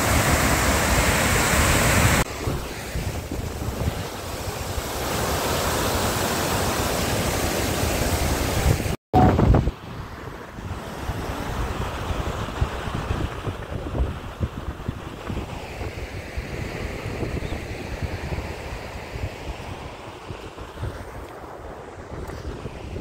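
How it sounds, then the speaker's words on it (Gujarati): Water spilling over the overflowing Bhakharvad dam, seen from its inner side, makes a steady broadband roar mixed with heavy wind buffeting on the microphone, with a brief dropout partway through and no voices. "આ ડેમની અંદરની સાઈડ છે, અહીંથી પાણી પડે છે"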